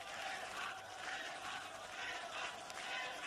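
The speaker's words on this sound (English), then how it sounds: "the Olympic Stadium giving its applause to the Greeks" A large football stadium crowd at a Euro 1980 match between Czechoslovakia and Greece at the Olympic Stadium applauds and roars steadily, a dense continuous wash of distant cheering and clapping.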